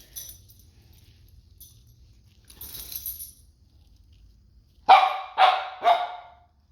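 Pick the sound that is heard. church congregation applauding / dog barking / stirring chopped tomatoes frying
dog barking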